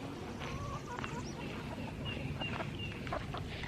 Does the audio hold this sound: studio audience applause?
no